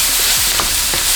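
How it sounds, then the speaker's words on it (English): Onion, garlic, spices, spinach and Brussels sprouts frying in melted vegan butter in a pan, a steady close sizzle with a couple of soft stirring scrapes, no talking. "Melt some vegan butter, onion and garlic. Add ginger powder, chili powder, turmeric, cumin and garam masala, spinach and Brussels sprouts."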